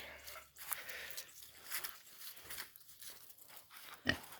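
Quiet grunting and snuffling from a young boar pig close by, soft and irregular, with a sharper snort near the end.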